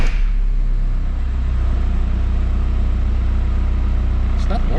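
A Volkswagen Golf engine with new Powerflex bushings idles steadily after starting, a loud, even low rumble that runs throughout, with a brief higher sound near the end.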